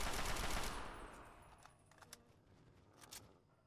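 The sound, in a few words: assault rifle firing in Fallout 3 video game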